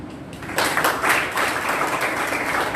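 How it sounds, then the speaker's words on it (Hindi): Audience applause for a third-place winner at a college speech competition, a crowd of hands clapping loudly and steadily after a brief lead-in, sustained to the end. "निशा के लिए ताली"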